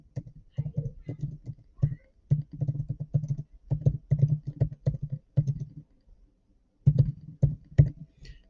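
Someone types on a computer keyboard, producing close, steady clusters of soft key clicks with a brief pause before a final flurry.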